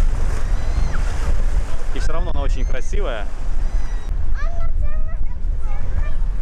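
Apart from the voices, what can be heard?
strong wind blowing at the seaside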